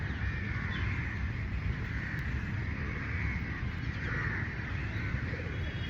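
Birds calling steadily in the lush gardens of a hotel in Kathmandu during cold rain, their overlapping cries and caws carrying over a constant wash of rainfall from start to finish.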